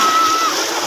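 Water from a motor pump splashes loudly and continuously as people bathe under it in hot weather, a close, dense, unbroken splatter.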